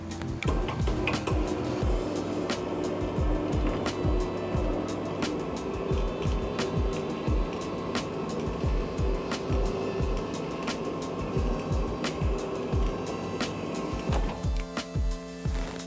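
SELVE SEZ RC tubular motor lowering a roller screen, a steady mechanical hum and whir running continuously and fairly close, with small clicks scattered through and a slight change in tone near the end.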